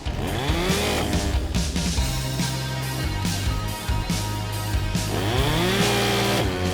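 A STIHL MS 211 petrol chainsaw runs steadily and loud, its engine revving up and down in repeated surges with a rising whine at start and end, with no talk over it.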